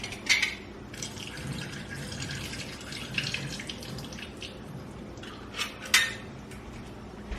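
Canned mandarin oranges are drained in a kitchen, with quiet trickling liquid and a few sharp metallic clinks of the can and utensils, fairly faint and without speech.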